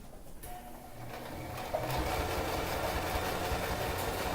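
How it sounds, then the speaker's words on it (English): A sewing machine stitching a bag handle strap runs as a quiet, steady whirring hum that starts softly and grows slightly louder after a brief pause, with no talk over it. "We never lift the presser foot when we're sewing unless we have to pivot, and then the needle has to be down."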